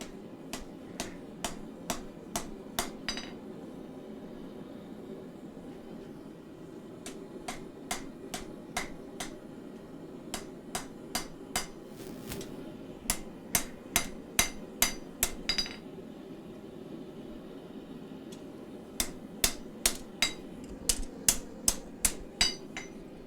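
A hammer strikes hot steel while a chopper knife is forged, ringing out in quick runs of sharp, evenly spaced blows separated by short pauses, over a steady low hum.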